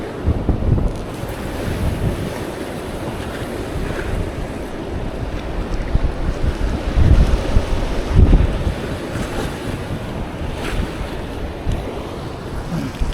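Ocean waves washing in at high tide on a fishing trip, a continuous rushing surf mixed with heavy wind buffeting the microphone, with no voices.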